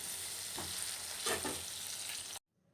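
Close, steady sizzle of garlic cloves frying in a pan with a couple of soft stirring scrapes, then it cuts off abruptly.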